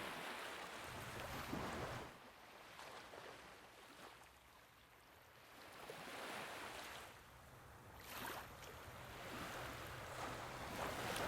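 Ocean waves wash onto the shore in slow, breathing swells of soft hiss that rise and fall over several seconds, with wind noise buffeting the microphone.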